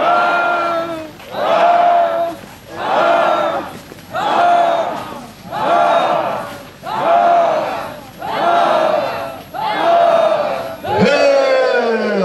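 A church congregation at a Pentecost celebration raises loud, rhythmic acclamations in repeated bursts of roughly one per second, a chanted crowd cry rising and falling in steady waves with no other sound between.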